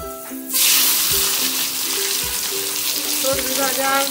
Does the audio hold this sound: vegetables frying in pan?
yes